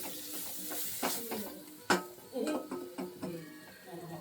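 Spinach and masala frying in a pan with a soft sizzle under repeated scraping stirs and a few sharp clicks of a spoon against the pan, close up.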